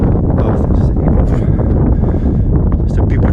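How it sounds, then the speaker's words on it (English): Wind gusts steadily across an open desert beside a derailed train in California, buffeting the microphone with a continuous, loud, rumbling roar. "Oh, this is the windy side."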